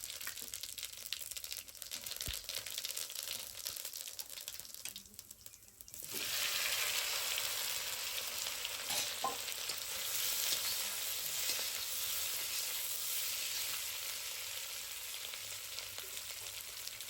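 Potatoes with cumin seeds and coarsely ground dry masala sizzle steadily in hot oil; the frying grows louder and fuller partway through, with occasional faint stirring clinks and no voices.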